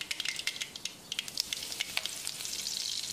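Two sprigs of curry leaves frying in hot sesame oil in a pan with mustard and fenugreek seeds for vatha kuzhambu, giving a close, continuous sizzle with crisp crackles and pops throughout, with no voices.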